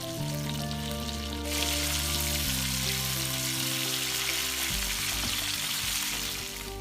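Fish pieces frying in hot oil for a fish gravy, giving a steady, close sizzle that runs the whole time beneath sustained background music.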